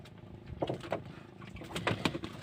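A small rescued bird being hand-fed makes short, soft chirps and peeps in scattered bursts, close by and faint against a quiet background.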